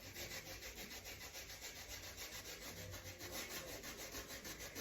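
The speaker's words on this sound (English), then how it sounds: "Now we're going to do a scrub, scrub, scrub on the heel." A scrub is worked back and forth over the heel of a foot to remove calluses, giving a soft, continuous rhythmic rasping that is close and fairly quiet, with no talking.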